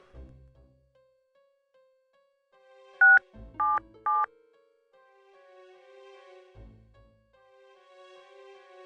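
Three short, loud keypad dialing tones sound in quick succession on a courtesy phone in the detective game Tex Murphy: Overseer, over a quiet background with soft ambient music.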